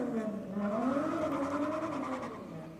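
A Nissan S13 race car engine at a drag race drones and revs steadily, its rising and falling tone heard from some distance over a wash of background noise.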